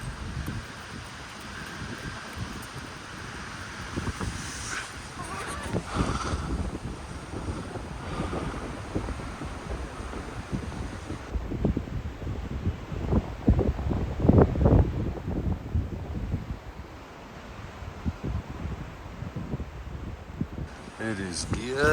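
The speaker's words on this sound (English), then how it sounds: "It is a windy day here, folks." Gusty wind roars and buffets the microphone outdoors in a backyard chicken run, with a steady rush of blowing air under a person talking throughout.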